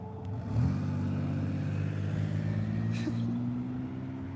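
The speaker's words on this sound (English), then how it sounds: "Is this the red car driving by right as he turns?" A red car's engine hums steadily and rises slightly as it passes nearby, a sustained mid-pitched drone lasting several seconds.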